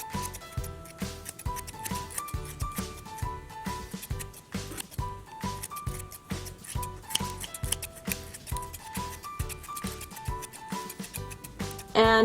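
Scissors snip through soft foam to shape a cake-slice squishy, with rapid, repeated close crunching cuts in an even rhythm and no talking.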